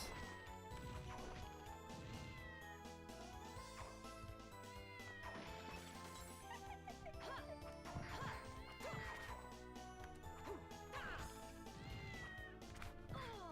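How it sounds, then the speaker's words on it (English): A cat meows in the PS5 Castlevania Dominus Collection. Its faint meows mix with busy game music and repeated sharp hit and crash effects over a continuous soundtrack. "And yes, that is a cat."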